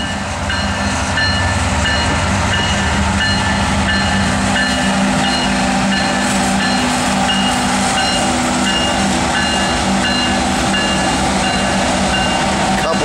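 A CSX Q697 manifest freight train led by GE GEVO locomotives rolls past Monroe Junction at Hamlet, a loud, steady rumble with ringing wheel and rail tones that holds unbroken from start to finish.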